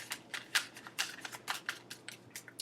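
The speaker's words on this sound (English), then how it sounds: "Last shuffle." A deck of tarot cards is shuffled up close, a quick run of soft, crisp riffling flutters in an uneven rhythm over quiet background.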